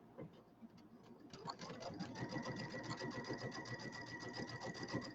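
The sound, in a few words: sewing machine stitching a pillow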